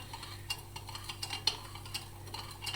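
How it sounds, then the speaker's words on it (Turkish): A spoon stirs semolina halva in a hot pot, giving faint, irregular scraping clicks and ticks against the metal over a low steady hum, with no talking. "Şimdi son karıştırma ve ocağımızın altını kapatıyoruz."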